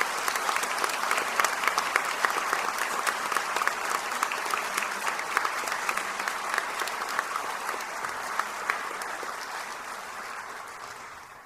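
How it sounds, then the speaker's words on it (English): A high school audience at a National Honor Society induction ceremony gives a sustained round of applause, dense, even clapping filling the auditorium for several seconds before slowly tapering off. "Please join me in a round of applause for the newest members of National Honor Society."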